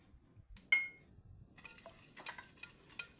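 Sugar being stirred into a Tunisian biscuit mixture in a bowl: a few sharp utensil clinks and scrapes against the bowl, then a busier run of stirring and tapping, close and fairly quiet.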